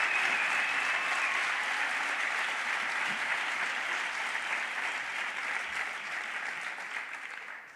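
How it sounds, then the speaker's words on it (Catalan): Sustained applause from a theatre audience at the Teatre Bartrina in Reus, steady and full throughout, tapering slightly toward the end. "Fora aplaudiment, sisplau, per un dels membres fundadors i director durant molts anys, Albert Masdeu."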